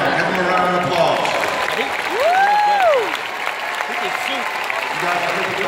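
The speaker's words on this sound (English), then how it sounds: "Give them a round of applause." Crowd at an AAU basketball nationals event applauding, loud continuous clapping with cheering and a rising, falling whistle or call cutting through the middle.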